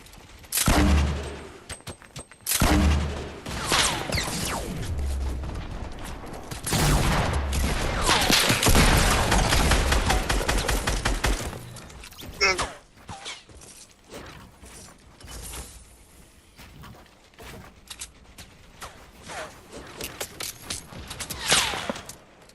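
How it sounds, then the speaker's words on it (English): Gunfire in Fortnite Battle Royale, with loud rapid bursts and volleys of shots, heaviest in the first half, then thinning into scattered single shots and game effects. "Guys, they're shooting from northwest."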